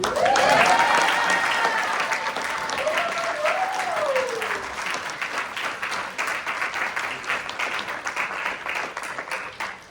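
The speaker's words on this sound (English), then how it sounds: "give a round of applause" People in a student senate chamber break into sustained clapping that starts loud and slowly thins out, with a couple of voices calling or whooping over it early on.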